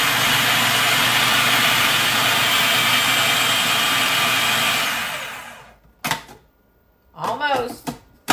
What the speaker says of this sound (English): what we're going to do now is we're going to mix it up with food processor